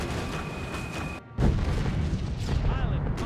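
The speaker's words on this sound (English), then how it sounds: "Bombs away." Bombs drop and explode in a bomber flight game, a low rumbling engine drone breaking into a heavy boom followed by rolling, crackling blasts, with a voice speaking over it.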